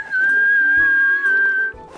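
A single cartoon character whistles a long, steady tune-like note in a British children's animation, clear and close, with a couple of soft thumps underneath and no talking.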